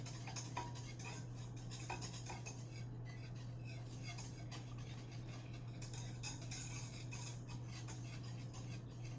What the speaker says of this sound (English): I keep constantly whisking so that we can prevent any scorching from happening on the bottom of this pan